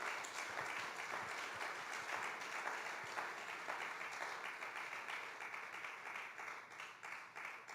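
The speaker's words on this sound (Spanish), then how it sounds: "¿Por qué no le das un fuerte aplauso al Señor si estás agradecido por la gracia?" A church congregation at Vida Abundante Tucson applauds, a sustained wash of many hands clapping, steady and fairly distant, with no speech over it.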